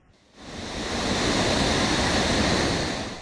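Sea waves surge onto an eroding shoreline lined with rubbish and broken blocks, a broad roaring wash that swells quickly from quiet and holds steady and loud, with wind noise mixed in.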